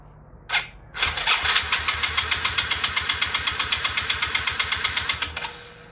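A rebuilt 110cc TaoTao quad engine cranks with a brief sputter, then catches and runs in a fast, steady putter of even pulses for several seconds before cutting off.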